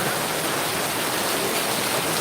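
Heavy rain falling in a steady, even hiss that fills the whole stretch without pause, loud and close, with no talking.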